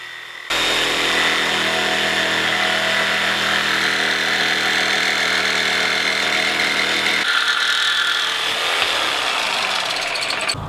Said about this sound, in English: I'll just cut it out with my jigsaw.